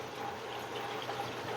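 City water pours into a hydroponics reservoir in a steady, moderately loud gush with no talking.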